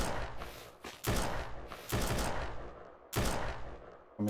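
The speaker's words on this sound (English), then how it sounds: "Somebody's shooting at me." Gunfire in the zombie survival game Surroundead: three loud, sharp broadband bursts spaced about a second apart, each trailing into a dense rumble, with no talking over them.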